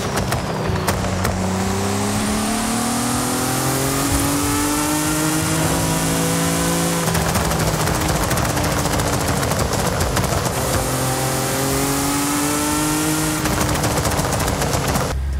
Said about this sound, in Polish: I tak sobie tutaj brzmi system antylag.